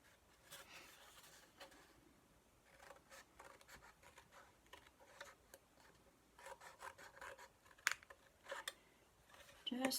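A blade cuts a V into a cardboard box flap with short rasping, scraping strokes in uneven bursts. The strokes grow louder and denser toward the end.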